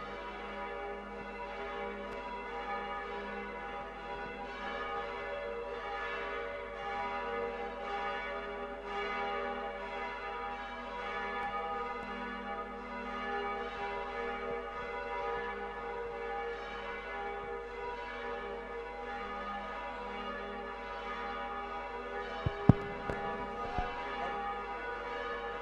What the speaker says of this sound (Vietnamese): xin chuông dừng.